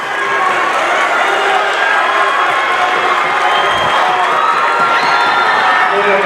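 Basketball crowd at a Portland High varsity boys' semifinal against Lewiston roars steadily in a packed gym, a dense wall of cheering and shouting sustained throughout.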